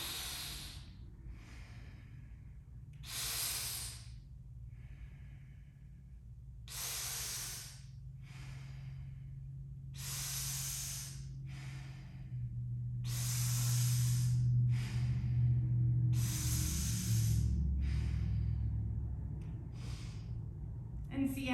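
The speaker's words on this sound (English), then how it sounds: "you're inhaling through the mouth, and then you're exhaling through the nose. And this is, again, Sitakari breath." Sitakari breathing, repeated slow cycles of hissing inhales through the mouth and softer exhales through the nose, close and clear at a steady, even pace, with a low hum underneath.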